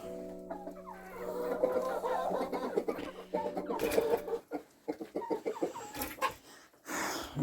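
Hens in a backyard flock cluck and murmur close by, with a steady run of short clucks and a few louder squawks, alone without any voices.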